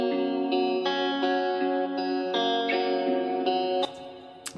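Guitar processed with EQ, chorus and long decay reverb in FL Studio, playing a sequence of sustained, layered chord notes that change every half second or so, wide and shimmering, then thinning into a reverb tail at the end.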